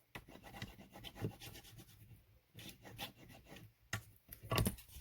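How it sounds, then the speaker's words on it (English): A tool burnishing score tape onto paper for a mini album cover makes faint, close rubbing and scraping strokes in uneven bursts, a soft papery rasp with no talking. "Burnish it well."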